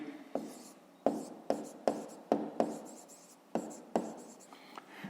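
A pen writes by hand on paper during a fifth-grade math exercise, with about ten distinct strokes in irregular rhythm, close and fairly quiet, each stroke a short scratchy burst.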